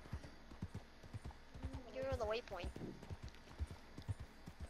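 Horse hooves clip-clop at a steady trot in Red Dead Online, a regular rhythm of close, distinct hoofbeats running through the whole stretch while players talk over them.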